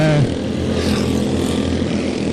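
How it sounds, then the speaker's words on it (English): Light 160 class race cars on a dirt track during warm-up laps, engines droning and revving steadily at a distance with a loud blended roar that persists throughout. "you can tell by the sound of these cars, these are some fast cars, this Light 160 class"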